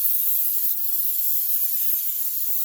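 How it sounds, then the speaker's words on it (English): A steady hissing spray of Baker's Joy baking spray onto a 10-inch Bundt pan, held for a few seconds, close and continuous, with no talking. "my 10-inch bun pan, and I'm going to spray it"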